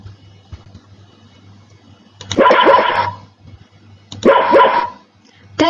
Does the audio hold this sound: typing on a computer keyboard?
no